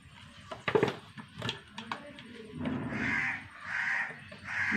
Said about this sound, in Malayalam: കാക്ക ഇഷ്ടം പോലെയാണ്